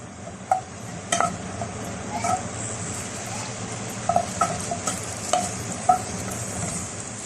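Ghee and a little oil melting and sizzling in a pan as the base for béchamel, a steady close frying hiss with occasional spoon stirs and light metallic clinks against the pan, no talking.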